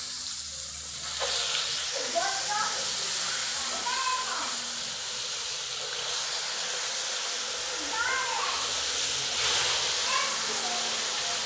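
Flour-coated catfish fries in hot oil with a steady, loud sizzling hiss throughout, while someone talks intermittently over it.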